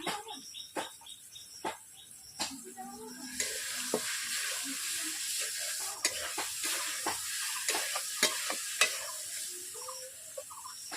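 Rohu fish frying in a pan gives a soft, steady sizzle broken by occasional clinks and scrapes of stirring. Faint birdsong chirps in the background and there is no speech.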